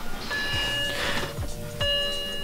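BMW E90 sedan sounding a series of electronic warning chimes after its key fob is inserted and the ignition switched to auxiliary mode, several short tonal beeps spaced out over a couple of seconds, close and clear in a quiet cabin.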